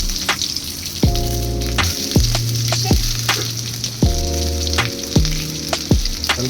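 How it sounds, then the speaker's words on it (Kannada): Onions for a homemade chicken curry fry loudly in a pan, a close, constant sizzle under repeated low, humming tones that rise and hold, with occasional stirring knocks and no talk. "ಸ್ವಲ್ಪ ಫ್ರೈ ಮಾಡ್ತೀವಿ."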